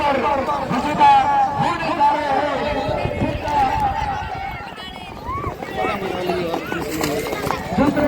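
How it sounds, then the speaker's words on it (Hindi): Horses gallop in a rewal horse race in Kutch, with hooves pounding steadily under near, continuous, excited commentary and crowd noise. "देखिए आप देख सकते हो काफी घोड़े पीछे रह चुके हैं"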